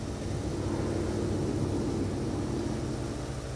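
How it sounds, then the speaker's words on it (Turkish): An airplane passes overhead in the video game Gas Station Simulator, heard as a continuous broad roar that stays loud and steady throughout the short stretch. "Akşam uçak geçiyor."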